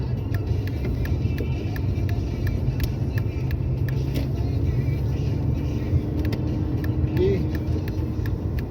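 A car rolls along and enters a roundabout, its engine hum and tire rumble steady and close from inside the cabin, with faint clicks of a turn signal ticking over the drone.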